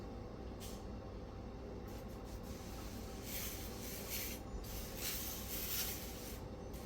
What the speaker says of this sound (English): So I'm going to pre-spray it.